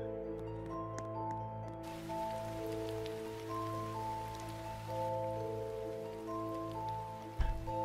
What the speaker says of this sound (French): Ils avaient bien prévu de la pluie pour une fois qu'ils ne se trompent pas à la météo.